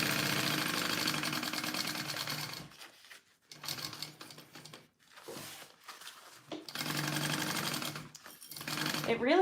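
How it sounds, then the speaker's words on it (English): A sewing machine stitches up a bag pocket in several bursts of rapid, steady needle chatter, pausing between runs and close to the microphone. "I'm just sewing up this pocket, and then we're gonna start binding this bag."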